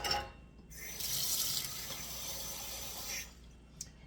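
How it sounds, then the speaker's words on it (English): Water runs into a cooking pot for green beans, a steady hiss and splash at close range lasting a few seconds and tapering off, with no talking over it. "So I'm just going to put a little bit of water on, and I'm going to cook these just till done."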